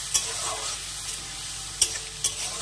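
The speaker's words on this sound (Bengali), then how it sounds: "এখন এর মধ্যে দিয়ে দিলাম চিংড়ি মাছটাকে দিয়ে চিংড়ি মাছটাকে কিন্তু একটু ভালো করে ভেজে নিতে হবে।" Prawns fry in a pan with ginger, giving a continuous soft sizzle with a few sharp utensil scrapes and taps standing out, close up with no voices.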